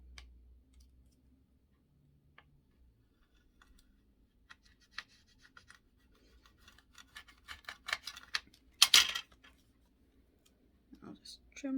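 Quiet scissor snipping and scratchy cutting sounds trimming cork, sparse at first then busier, with a few louder clicks toward the end.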